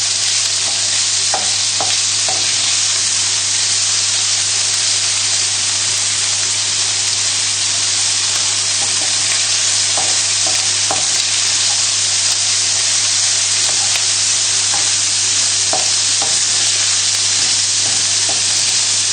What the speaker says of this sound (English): Just keep moving it around in the pan just to make sure that it's not going to stick at all.